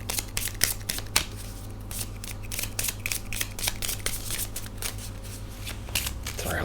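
Tarot cards are shuffled close up in quick riffling, slapping bursts that repeat irregularly over a low background hum.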